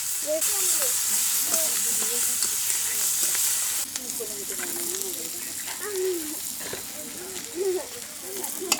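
Onions fry in hot oil with a strong, steady sizzle and hiss for an egg and brinjal dish, while a voice speaks over the cooking.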